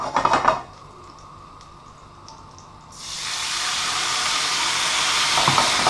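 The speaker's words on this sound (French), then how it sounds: "On va déglacer avec notre jus de citron." Lemon juice hits a pan of hot browned butter, a sharp burst of loud hissing sizzle that swells and keeps spraying steadily after a few soft clinks.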